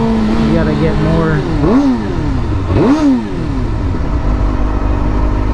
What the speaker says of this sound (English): if I was going faster, and I give it more gas, so the rev would be louder